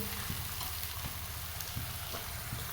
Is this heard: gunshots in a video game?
no